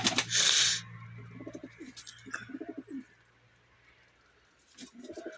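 Pigeons coo in soft, repeated rounds with pauses between, after a brief burst of fluttering noise at the start; a low steady hum runs underneath.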